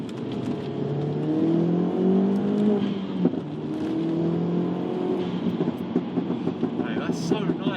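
Mk1 Audi S3 fitted with a short shifter accelerates in second gear, its engine note rising steadily from inside the car and dipping briefly at a shift, while occupants talk over it.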